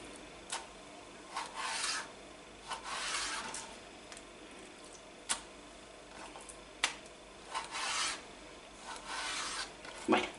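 A knife slicing pork loin into thin strips for tempura on a board: repeated short rasping strokes and crisp ticks, close and fairly quiet, with no talking.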